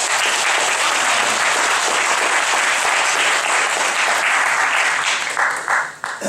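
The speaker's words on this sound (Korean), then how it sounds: "수고하신 분들 박수 한번 드리겠습니다" A church congregation gives loud, sustained applause during a Sunday service, thanking volunteers who decorated the sanctuary; dense clapping fills the space and fades out in the last second.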